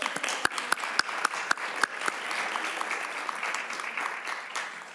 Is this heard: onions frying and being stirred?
no